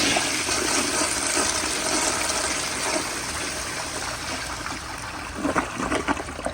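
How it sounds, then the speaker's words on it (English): A 1974 Crane Santon toilet flushes at full pressure, a loud, close rushing gush of water that holds steady and then ends in gurgling siphon pulses. "So yeah, again, very powerful flush, and I love how it siphons at the end."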